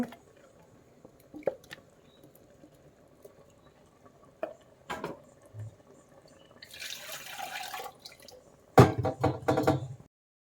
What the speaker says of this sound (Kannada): ನಾನು ಇಲ್ಲಿ ಮೀಡಿಯಮ್ಮಾಗಿ ನೀರು ಹಾಕ್ತಿದ್ದೀನಿ